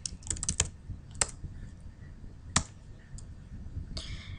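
Light, scattered clicks of a computer keyboard as terminal commands are typed, with short bursts of keystrokes separated by pauses, faint and close with no voices.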